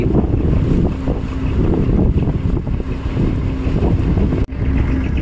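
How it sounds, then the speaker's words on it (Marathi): Boats racing on the open sea: a loud, continuous roar of engines and rushing water, heavily buffeted by wind noise on the microphone, with a brief dropout near the end. "पाहू शकता आपण इथे रेसिंग चालू आहे बोटींची"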